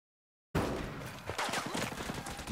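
Video game gunfire from Ghost Recon Breakpoint bursts in after half a second of silence as a dense volley of close shots, loud and crackling, that continues throughout with some faint background noise.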